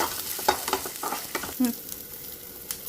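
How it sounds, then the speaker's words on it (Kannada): Ginger and onion sauté in a pan with oil, giving a soft steady sizzle broken by several scraping stirs and spoon taps, heard up close with no talking. "ಶುಂಠಿ, ಈರುಳ್ಳಿ, ಸ್ವಲ್ಪ ಈರುಳ್ಳಿ ಹಾಕ್ಕೊಂಡಿದ್ದೀನಿ. ಅದನ್ನು ಚೆನ್ನಾಗಿ ಹುರ್ಕೋಬೇಕು."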